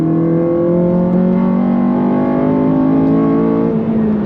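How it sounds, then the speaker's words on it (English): Honda Civic Type R engine revving hard with VTEC engaged, a loud sustained high-pitched wail that climbs steadily in pitch and then eases slightly near the end, close and without any talking. "The best thing about the Hondas, the VTEC,"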